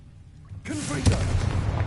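The Confringo explosive spell in the Hogwarts Legacy video game bursts out as a sudden, loud booming blast that rolls on with a rumbling, crackling tail through to the end.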